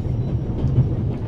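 A train rattles along in the video game The Raven, a steady low rumble and rolling clatter filling the background throughout, with no voices.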